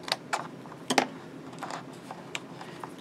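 A sheet of A4 card being cut with scissors, heard as a series of faint, sharp snips and ticks spaced irregularly across a quiet room.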